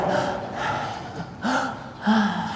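A voices an imitation of an old man's short, labored gasping breaths, several breathy gasps in a row, close and fairly loud with no words.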